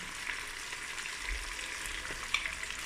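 Meat browning in a Cookeo multicooker as onion and garlic are added, giving a steady close sizzle and frying hiss with a few faint stirring scrapes.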